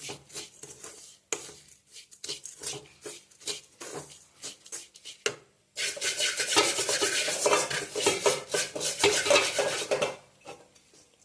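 A spoon rhythmically scrapes and stirs a khoa pinni mixture made from ghee khurchan in a metal pan, the clatter denser and louder through the middle stretch, with no talking.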